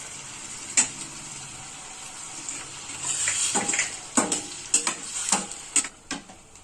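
Ginger-garlic paste and tomato puree masala fries for a dhaba-style bhindi gravy, a quiet sizzle broken by a series of loud, close stirring scrapes and knocks in the pan.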